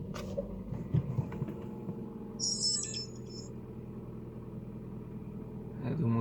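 A KIA Rio engine with an unusual knocking noise starts up and settles into a steady idle, heard faintly under a quiet bird chirp partway through, with a voice speaking over it.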